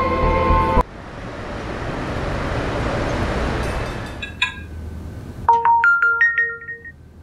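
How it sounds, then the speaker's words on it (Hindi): A mobile phone ringtone plays loudly in a series of bright electronic tones, each falling away, after a stretch of steady road and traffic noise and a short burst of music. "आपका फोन है मामा"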